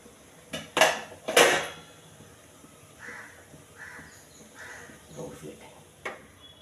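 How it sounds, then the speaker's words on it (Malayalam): A metal idli steamer pot is set onto a stove with two loud clanks early on, followed by softer clinks and scrapes, while crows caw repeatedly in the background. "അപ്പോൾ അത് ഈ അടുപ്പത്തേക്ക് വെക്കാം"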